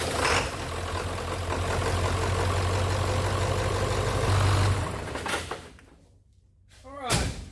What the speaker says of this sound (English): what I just did there was an engine running test